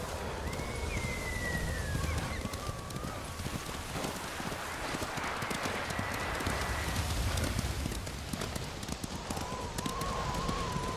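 Horse hooves clip-clop steadily through a dense, noisy game soundscape in Ghost of Tsushima, the rhythm partly buried under wind-like ambience and music, with faint tonal calls drifting over it.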